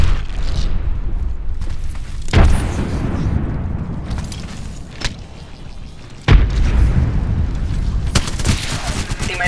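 Frag grenade detonations in Apex Legends, two sharp loud blasts set against constant gunfire and low rumble, with more shots cracking near the end.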